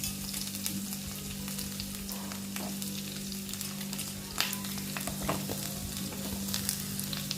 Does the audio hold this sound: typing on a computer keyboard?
no